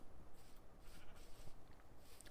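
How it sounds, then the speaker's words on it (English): A Minecraft sheep bleats faintly during a hardcore survival game, a single soft call set against low background noise. "We're going to end up getting sheep in here as well."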